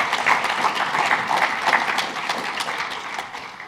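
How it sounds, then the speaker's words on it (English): An award ceremony audience claps for the sponsors, a full burst of applause with distinct individual claps that gradually thins and softens toward the end. "Big round of applause for our sponsors for this award."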